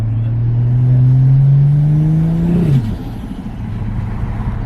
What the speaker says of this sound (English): You kind of want this turbo now, don't you? That sounds awesome.